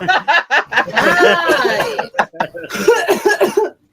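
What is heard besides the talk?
coughing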